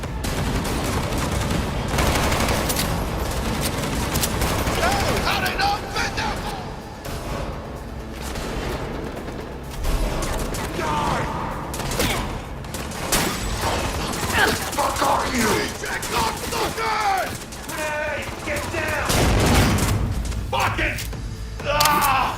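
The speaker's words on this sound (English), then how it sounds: "This allows players to bounce bullets off walls and hit enemies hiding behind cover." Bursts of gunfire from the video game Cyberpunk 2077, with rapid volleys and heavy thuds layered under dense game sound and music throughout.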